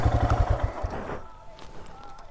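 A Royal Enfield Himalayan adventure motorcycle rides off-road with a loud, rumbling, thumping engine close by that fades after about a second, leaving quieter background noise.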